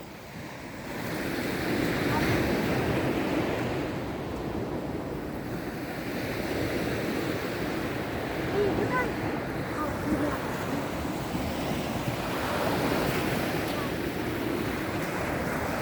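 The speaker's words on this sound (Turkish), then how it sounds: "Dalga seni kovalıyor." Rough sea waves break and wash continuously onto a beach, loud and near, with heavy wind buffeting the microphone throughout.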